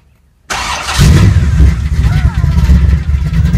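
A blown 1964 Corvette's engine cranks and fires after half a second of silence, settling into a loud, deep, rumbling run that carries steadily as the car pulls away, close to the listener.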